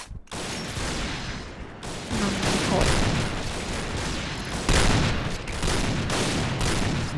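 Rapid gunfire in a shooter video game, with sustained fusillades of shots cracking in quick succession over a steady loud wash of game noise, close and dense throughout.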